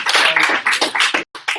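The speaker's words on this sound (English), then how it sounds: "Let's give him a clap." Audience clapping for a speaker at a team presentation session, a burst of hand claps with a brief gap near the end, close and loud, with no talking.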